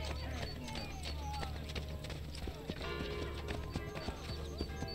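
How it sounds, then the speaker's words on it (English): Horse hooves clip-clopping with whinnies in Assassin's Creed Brotherhood, steady clattering hoofbeats and a neigh over busy game ambience, with faint talking underneath. "I am hearing someone's horse"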